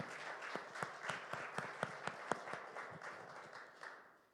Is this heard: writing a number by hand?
no